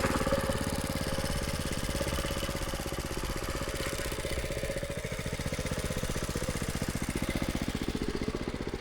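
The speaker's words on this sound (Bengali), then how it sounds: "আর এটা মেশিনটা ছোট্ট মেশিন, হ্যান্ড ট্র্যাক্টরের মতো," A small hand-tractor-like farm machine chugs continuously in a potato field, its engine throbbing in a steady, fast rhythm, close and fairly loud throughout.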